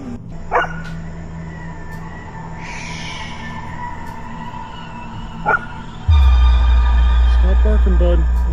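Several sharp dog barks come in spaced bursts, and a loud low rumble takes over near the end.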